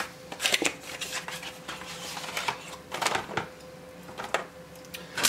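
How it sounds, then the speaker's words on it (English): Kapton tape is pulled off the roll and wrapped around the joints of a 3D printed desk lamp, making close, crackly tearing and crinkling bursts with short pauses between them. "Actually, I wanted to put some Kapton tape in here."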